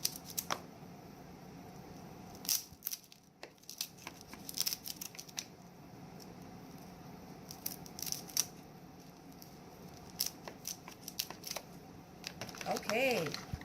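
Crab being cut into pieces with kitchen shears, giving sharp irregular snips and crunchy clicks scattered across the span, mid-distance, over a low background hum.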